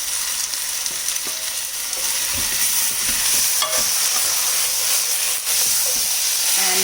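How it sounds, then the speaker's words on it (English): Chopped tomatoes fry in a hot pan for prawn biriyani, giving a loud, steady hiss and sizzle with occasional stirring scrapes throughout. "Continue to cook them until the tomatoes are all nice and pulpy."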